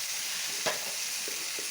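Chopped ivy gourd going into a hot pan with turmeric and chilli powder: a quiet, brief sizzle with one soft knock, then a couple of faint stirring sounds.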